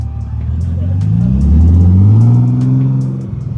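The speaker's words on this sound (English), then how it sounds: "There's just something about a V8 in rumble, you can't beat that." A Bentley's V8 rumbles up close at a cars-and-coffee supercar meet. The deep engine note swells and rises in pitch, then eases off, with faint crowd noise underneath.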